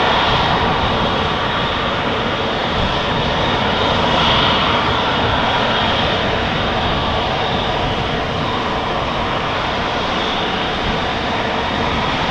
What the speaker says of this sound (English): KLM Embraer 175 to Zurich, flight